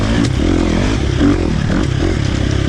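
A KTM 350 XC-F dirt bike running a tuned Vortex ECU map rolls off the throttle under engine braking, a loud, close, continuous engine drone with rattling and scraping from the ride.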